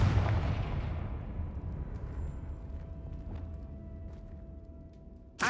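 A Confringo fire spell bursts loudly in Hogwarts Legacy, a single blast at the start trailing off into a long rumbling decay with faint crackles, then a sharp new burst right at the end.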